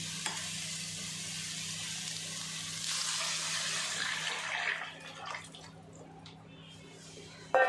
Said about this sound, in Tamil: இந்த கப்புக்கு நாலரை கப்பு தண்ணி ஊற்றுறோம்